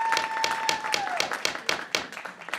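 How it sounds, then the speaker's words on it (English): Audience applauding at a Kirkland city council meeting, a brisk scattering of hand claps in a hall, fairly close, with a sustained electronic tone sounding briefly at the start. "I did ask you not to applaud."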